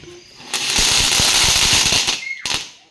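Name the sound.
firecracker bursting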